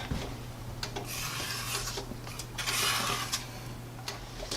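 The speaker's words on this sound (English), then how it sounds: "I'm going to give it another stir." Spatula scraping and rubbing through thick caramel in a pan set on a cool burner, steady close scratchy strokes with a low hum beneath and no talk.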